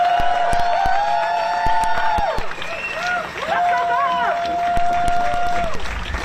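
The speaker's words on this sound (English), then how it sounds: "Let's have another immense round of applause for Professor Ryan Eagles." Crowd at a Harvard protest cheering and clapping, a continuous roar of applause with whoops rising above it and a voice calling out loudly over the noise, steady throughout.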